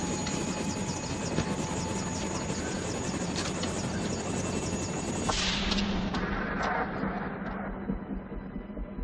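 A helicopter fitted with a loudspeaker drones steadily with a rotor chop, loud and close, then its noise thins and drops away partway through.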